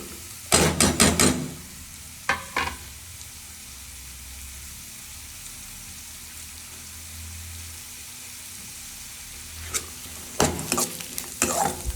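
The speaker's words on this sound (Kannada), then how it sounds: "ಇದೆಲ್ಲ ನೀಟಾಗಿ ಫ್ರೈ ಮಾಡಿಕೊಂಡು" Chopped carrots and beans are fried in a pan with a soft continuous sizzle, and a spoon stirs them in short scraping clusters at the start, around two seconds in, and near the end.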